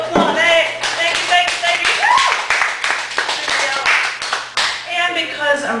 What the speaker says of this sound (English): I have to applaud.